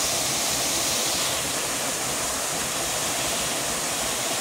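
A dangerous, heavy waterfall roars with a dense, unbroken rush of falling water, close by and steady, with no voices.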